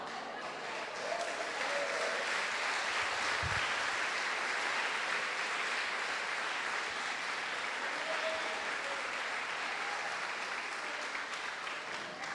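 Congregation at a worship congress in Pernambuco applauding in sustained, dense clapping that holds steady and loud throughout, with crowd murmur beneath and no clear speech over it.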